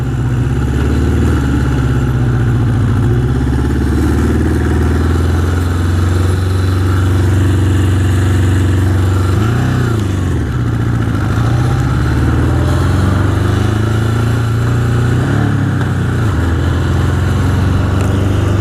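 A 1981 Honda CB750 custom motorcycle is ridden on back roads in East Hampton, NY. Its engine drones loud and close throughout, with slight shifts in pitch as the throttle changes.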